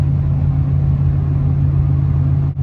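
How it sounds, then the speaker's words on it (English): A 2002 GMC Sierra with a 5.3L V8, headers, no cats and a Black Widow Venom 250 muffler cruises on the interstate at about 2100 RPM and 75 mph, heard from inside the cab as a steady, low, even exhaust hum with no talking. "you can actually hear the exhaust tone from the tailpipe inside the truck"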